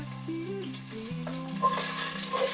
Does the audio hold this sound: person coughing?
no